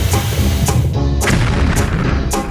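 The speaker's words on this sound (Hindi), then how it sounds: "लगता है अलग अलग स्वाद का विस्फोट।" Cartoon explosion booms in an animated popcorn kernel and spray mishap, several loud deep bursts repeating about every half second over a dense rumbling roar.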